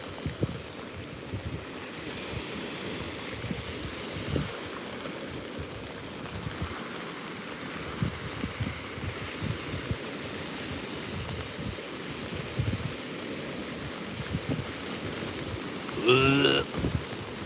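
Rain falls steadily at the seaside during a fishing session on Hayling Island, a dense continuous hiss mixed with wind and surf, with a brief louder burst near the end.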